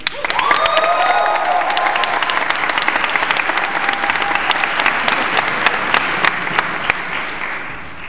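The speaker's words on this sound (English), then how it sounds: "Everyone give a big old round of applause again." A large convention audience at a Power Rangers reunion panel claps loudly and steadily with scattered cheers and whoops, a dense close wash of applause that fades slightly at the end.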